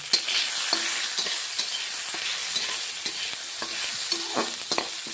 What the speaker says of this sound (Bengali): টমেটো দিয়ে দিলাম।